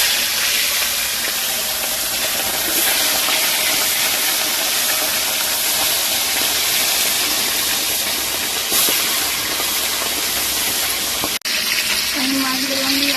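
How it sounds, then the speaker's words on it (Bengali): Tilapia fish, salted and rubbed with turmeric, sizzling in hot oil in a home kitchen, a steady loud broadband crackle and hiss that holds for the whole stretch, with a faint low tone near the end. "তো বন্ধুরা এখন মাছগুলো দিয়ে দেবো ভাজার জন্য"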